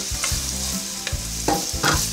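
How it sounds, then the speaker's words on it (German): Onions sizzle in olive oil in a frying pan, a steady close crackle with several soft scraping stirs, and no voices. "Jetzt dümpfe ich schön die Zwiebelchen an."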